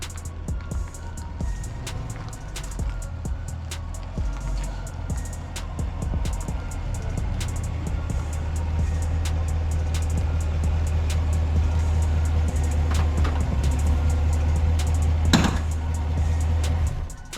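A 2020 Chevrolet Camaro SS with the LT1 V8 drives up, a low rumbling exhaust growing louder and nearer over the clip, with a few faint clicks and outdoor background noise.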